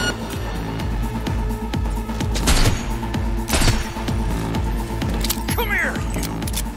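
Rapid gunfire in the video game Cyberpunk 2077, bursts of loud shots and thumps over a rumbling game soundtrack, with brief voices mixed in.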